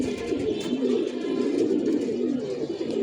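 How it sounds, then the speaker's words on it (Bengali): Pigeon chicks flying and settling at a house on a hot day, continuous low cooing and soft wingy rustles, close and steady throughout, with no speech. "এই যে মাশাল্লাহ কবুতরের বাচ্চাগুলো উড়ে বসছে"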